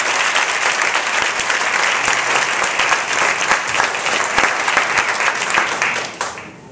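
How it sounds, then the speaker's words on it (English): Dense, loud applause from an audience at an annual meeting fills the room without a break, then tapers off quickly at the end. "So can we just give her a round of applause?"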